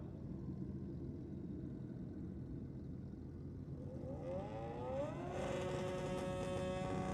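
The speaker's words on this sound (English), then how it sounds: "Lots of RPM on the start line for Adrian Watson." A street bike's engine at a drag racing start line, a low idle rumble that builds into fast rising revs in the last few seconds, fairly distant and faint.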